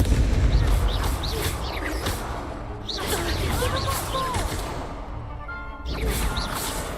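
Confringo blasting curse in Hogwarts Legacy, heavy booming explosions with whooshing bursts and crackling debris in dense game combat noise, repeated several times.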